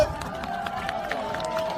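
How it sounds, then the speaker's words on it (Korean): Steady crowd applause at an outdoor village event show, a dense patter of many hands clapping at a fairly even level under a voice talking. "박수 한번 주세요."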